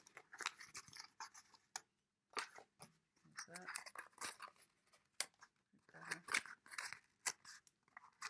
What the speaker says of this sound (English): Then I'm going to rip, these tabs will just rip off.